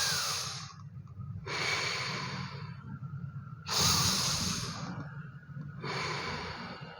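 A person lying down draws slow, deep breaths in and out, about three long broadband hiss-like breaths with short pauses between, close and fairly loud with no talking.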